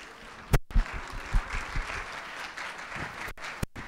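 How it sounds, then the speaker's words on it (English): Audience applauding speakers and a moderator at a political dialogue event, a steady crowd of clapping hands with a few louder close claps and brief thumps standing out near the start. "I think they deserve a round of applause."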